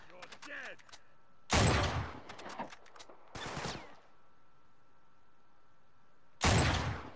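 Gunfire rings out in Uncharted 3 as loud, sharp shots and short bursts separated by quieter pauses, close and punchy, with a few fainter pops in between.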